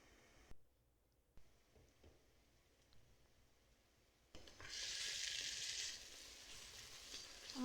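Fish kebab curry simmering in a pan, a soft background hiss broken by a few light knocks and scrapes, then a louder bright sizzle swells for a few seconds as the lid comes off and the curry is gently stirred.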